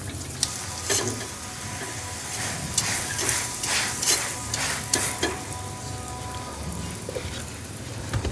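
A radish paratha fries in ghee on a hot tawa, giving a bright, spattering sizzle with repeated sharp crackling bursts as it is pressed and turned, loud and close with no speech.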